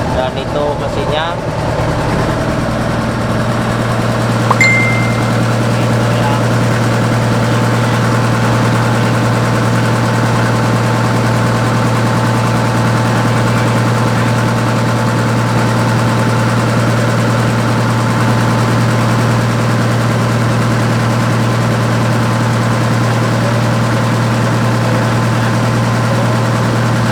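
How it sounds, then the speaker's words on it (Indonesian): Inboard engine of an Indonesian squid-fishing motor boat idling in its engine room, a loud, close, unbroken low drone with a steady hum and vibration that continues without change throughout. "Dan kita lanjut ke kamar mesin,"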